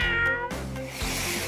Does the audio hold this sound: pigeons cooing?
no